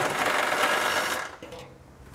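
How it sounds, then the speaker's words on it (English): A step bit grinds through the metal of a 2020 Mazda CX-30's frame to enlarge a hole for hitch hardware, a steady loud whirring rasp that cuts off after about a second and a half, leaving quieter hiss. "to open this up, I'm going to use a step bit"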